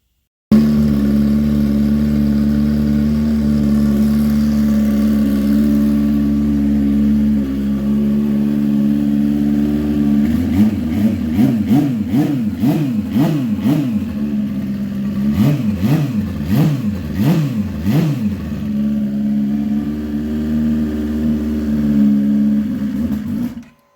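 A motorcycle engine cranks steadily on RC batteries, catches on an unprimed motor, and revs in bursts of rising and falling pitch, close and loud, before settling back to a steady run.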